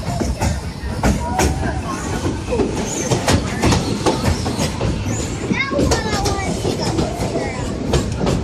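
A Disney theme-park railroad train rolling along its track, with rhythmic clickety-clack of wheels over rail joints, rumbling carriages and occasional squeals, close and loud, while a recorded narrator's voice plays over the ride.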